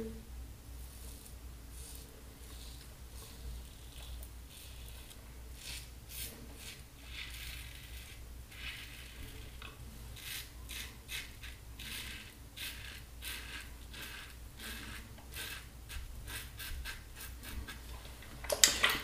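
A razor shaving across the grain on a second pass over lathered skin, a faint, steady run of short scraping strokes close up, quiet throughout with a slightly louder stroke near the end.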